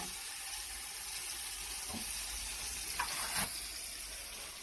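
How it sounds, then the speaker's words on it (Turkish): Peppers sizzle in a pan with a steady, soft frying hiss, broken by a few brief scraping stirs near the end. "Biberimiz pişiyor mu acaba? Pişiyor. Şöyle bir de ben karıştırayım."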